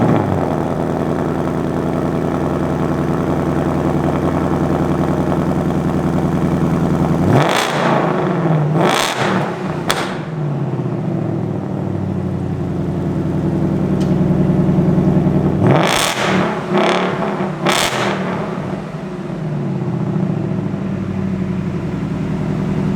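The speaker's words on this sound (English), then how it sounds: "I will show you guys the exhaust note" A 2021 Ford Mustang Mach 1 idles with a loud, steady exhaust rumble, then blips the throttle in two separate sets of sharp revs before settling back to idle.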